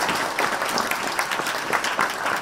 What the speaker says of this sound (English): So please give them a very warm applause.